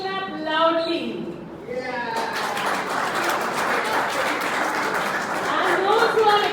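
A debate audience bursts into applause to vote for the motion. The clapping is dense and sustained and starts a couple of seconds in, after someone speaks.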